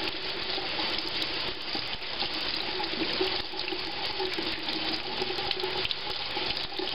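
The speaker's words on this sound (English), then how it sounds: "give them a good rinse." Corny keg parts are rinsed under a running tap, a steady close rush of water splashing into a sink, continuous and even throughout with no talking.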